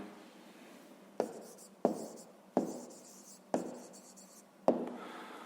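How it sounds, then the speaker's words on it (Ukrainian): Pen or pencil writing on paper while a math answer is written down, heard as five short scratchy strokes at a steady pace, each starting sharply and then fading, close up and quiet with no talking. "Записуємо тоді відповідь."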